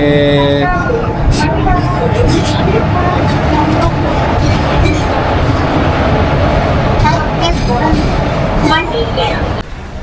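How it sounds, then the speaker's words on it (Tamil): A loud, steady rumble of a train arriving at Chennai, rolling along the tracks, with rattling and clanking over it and people talking throughout. "ஸோ சென்னை ட்ரெயின் வந்துட்டுருக்கு"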